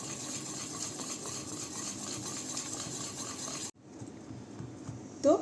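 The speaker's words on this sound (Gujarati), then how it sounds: "આપણે બેટરને એકદમ સરખી રીતે હલાવી" Malpua batter stirred in a bowl, a steady soft scraping and sloshing for several seconds, then a pause and a brief louder clink near the end.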